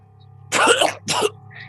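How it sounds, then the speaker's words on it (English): Two harsh throaty bursts close to the mic, a longer one followed by a shorter one, like someone coughing or clearing their throat over a low hum. "then there's a coughing sound"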